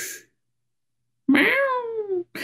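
A domestic cat gives one clear, drawn-out meow with a falling pitch, close and fairly loud. Short bursts of other sound come just before and after it, with silence in between.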